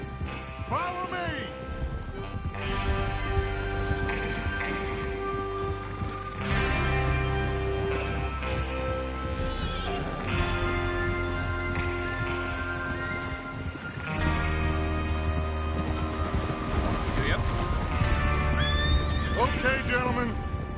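Horses in Red Dead Redemption II whinnying and snorting, with hooves clip-clopping beneath a musical score and game sounds, loud and close for about twenty seconds.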